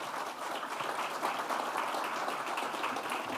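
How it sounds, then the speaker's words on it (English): Steady, dense audience applause fills a hall at a college's joint announcement event, continuous and even from start to finish with no talking over it. "let's give them a round of applause for being here"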